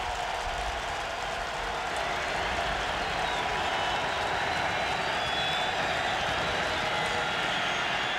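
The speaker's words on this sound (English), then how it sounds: "The crowd will tell you what happens on this conversion." A stadium crowd at a 2002 LSU vs. Kentucky college football game reacts to a third-down play with a dense, sustained roar of cheering and noise that holds steady throughout.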